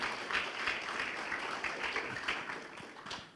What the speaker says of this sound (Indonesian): minta tepuk tangan yang meriah dong buat Tuhan Yesus kita